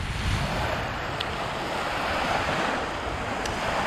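Waves wash steadily against the Lake Ontario shoreline while wind buffets the microphone, a continuous close roar of surf and gusts with no voices.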